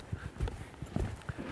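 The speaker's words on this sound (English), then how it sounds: "Get that horse moving forward" Horse hooves thud in an uneven clip-clop rhythm as a horse is ridden forward during rollback training in a riding arena, fairly close and without talk over them.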